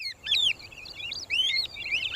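Small bird landing on a black buffalo's back on an open plain, giving clear, close high chirps and twittering calls in two short bursts.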